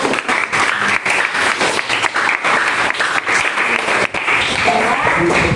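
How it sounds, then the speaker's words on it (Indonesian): Sustained audience applause at an Indonesian motivational talk, dense steady clapping from a large crowd filling the whole stretch, loud and close with only brief dips. "Tuh, tepuk tangan."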